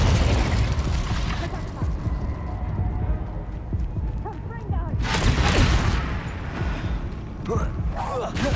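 Confringo fire-blast spells going off in the Hogwarts Legacy video game, a dense roar of bangs and bursts layered over continuous rumbling action, loud and close, with a voice calling out spells.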